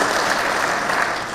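A large audience at a Kenyan political gathering breaks into brief, loud applause, dense clapping that fades slightly at the end.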